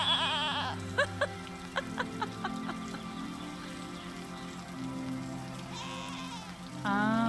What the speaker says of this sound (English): Now let's go milk the goats.